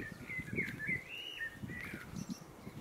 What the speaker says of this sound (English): lots of birds down here.